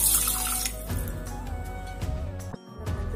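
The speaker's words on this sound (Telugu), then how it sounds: "నేను ఇంకొక గ్లాస్ పోస్తున్నాను." Water poured from a glass into a rice cooker's inner pot while cooking rice, a close, steady splashing pour lasting about three seconds with a brief break near the end.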